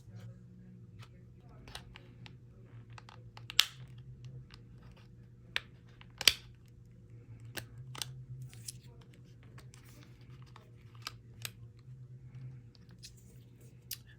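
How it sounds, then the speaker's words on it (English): A triangular plastic pry tool works apart the parts of a Sony WH-H910N headphone, giving scattered faint clicks and a couple of sharp snaps over a low steady hum. "you can utilize our pry tool here. It's a triangle plastic piece that you can use to pry away these two parts"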